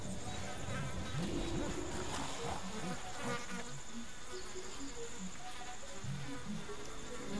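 Bees buzz steadily around a honey spot in the video game Ancestors, a continuous close insect drone with fluttering wingbeat texture, heard alone without talk.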